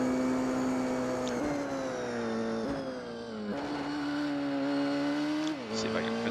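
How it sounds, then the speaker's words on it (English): The Chrysler Viper Oreca race car in Gran Turismo 4 roars under hard acceleration, its engine note climbing and then dropping sharply at each of several upshifts across the lap, loud and continuous with no talking. "The sound of this car is not really accurately portrayed through the game, but it still sounds pretty dang good."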